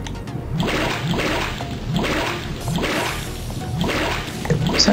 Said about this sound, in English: Sounds like you're flushing a toilet or sloshing water.